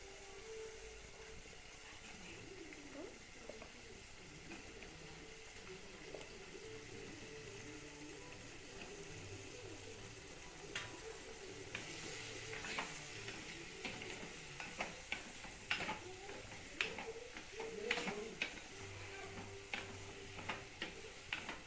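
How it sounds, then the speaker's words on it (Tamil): Eggplant and drumstick pieces going into a pan for tamarind kuzhambu sizzle steadily as they are stirred, with scraping and clicking from a spatula growing busier and louder toward the end. "நம்ம கத்திரிக்காய் முருங்கைக்காயை போட்டுடலாம்"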